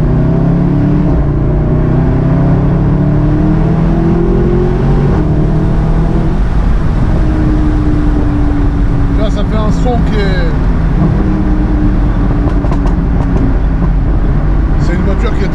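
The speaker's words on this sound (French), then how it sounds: "l'avantage vraiment avec cette voiture, c'est le moteur et le son du moteur" A Mercedes AMG car engine revving, with a deep throaty note rising and falling in pitch through the run, loud and close, with someone talking over it and a sharper burst near the end.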